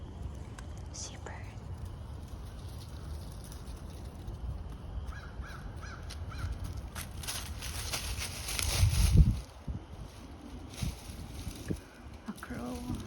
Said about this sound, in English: A crow, I think.